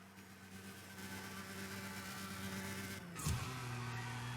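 A car engine in the CSR2 racing game holds a faint steady drone, then drops sharply at a gear shift and continues at a lower pitch, with no talking.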